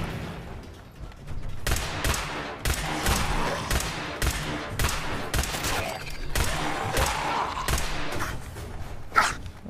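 Rapid gunfire from Fallout 4 combat crackles in dense bursts, volley after volley, with a few louder shots standing out. It runs nonstop through the whole stretch and no voices are heard.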